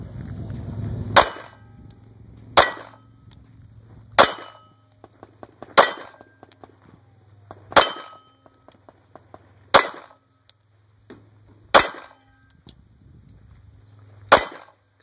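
Gunshots ring out at a shooting stage of the 2013 MGM Ironman, each shot followed by a sharp metallic clang from a struck steel target, about eight evenly spaced hits over a low background hum.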